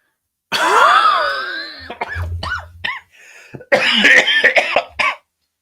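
A person coughs repeatedly in ragged bursts, with harsh throat-clearing and wheezy breaths between the fits, close and loud.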